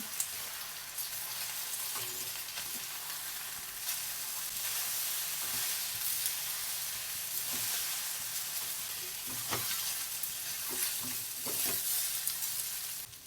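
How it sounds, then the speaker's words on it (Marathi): Idli pieces and vegetables sizzle steadily while being stir-fried over a high gas flame, a soft continuous hiss broken by occasional scraping clicks of the spoon against the pan. "मोठ्या गॅसवरती 1-2 मिनिटं छान परतून घेऊया. भाज्या छान परतल्या गेल्या की आपण तयार करून घेतलेली इडली मिक्स करून घेऊया."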